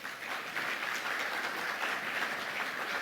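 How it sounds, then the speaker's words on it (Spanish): A church congregation applauds steadily, a dense wash of many hands clapping at an even level with no voices rising above it. "le damos un aplauso"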